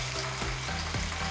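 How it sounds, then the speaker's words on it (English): Small pieces of chicken for Japanese karaage fry in hot oil, a soft steady sizzle and crackle with faint irregular pops, heard close and alone. "this recipe uses smaller pieces of chicken, so frying them once is sufficient"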